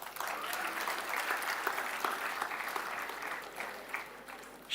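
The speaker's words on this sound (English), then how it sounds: "Students, kindly keep clapping." Students at a BBA convocation ceremony clap steadily, a dense, sustained crowd applause with scattered sharper claps throughout.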